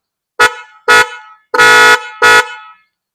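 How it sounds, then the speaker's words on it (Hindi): The horn of a 2009 Honda 125 motorcycle honks four times, loud and close, in short blasts with one longer honk in the middle. "इसकी मैं आपको आवाज भी टेस्ट करवाता हूँ"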